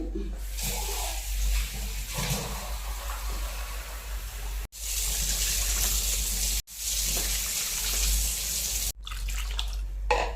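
Water pours in a strong, steady gush for cooking peeled onions in a home kitchen, broken by a few brief pauses, close and loud with a low hum underneath.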